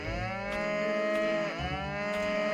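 A cow in a video game moos in a long, loud, harmonic lowing call, with a second moo following after a brief break, heard close and alone without talk.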